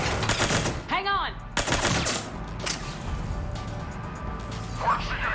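Gunfire in Mass Effect 3 cracks in a few loud bursts and impacts amid game effects, with a sharp rising whine near the start and scattered clatter afterward.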